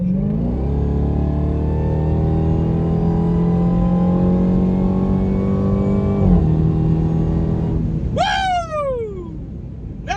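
A 2023 Dodge Demon 170 accelerates hard, heard from inside the car: a loud engine note climbs steadily in pitch, dips at a gear change, then rises again before a sharp whine sweeps downward near the end.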